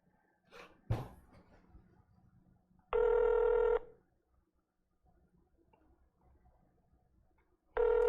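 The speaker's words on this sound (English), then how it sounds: "Let me dial the number now." Phone call being placed to a scam number, with two loud, identical ringback tone bursts about five seconds apart, close and clean, separated by quiet pauses holding faint handling noise and a brief breathy sound.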